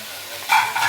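Onion, garlic and tomatoes hit a hot pan and start frying, a loud hissing sizzle that bursts up midway and keeps crackling close up.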